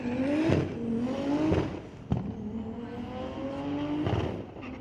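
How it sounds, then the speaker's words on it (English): Toyota Supra engine revving hard at a street legal drag strip, with rising harmonic sweeps and several throttle blips over steady background engine noise, loud and fairly close. "That's a cool sounding Supra."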